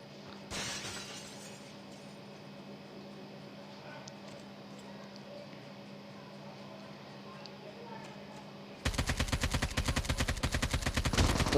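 A rapid burst of RT-50 gunfire from Call of Duty breaks out loud and dense after a quiet stretch of game ambience, the shots hammering in a fast, continuous stream to the end.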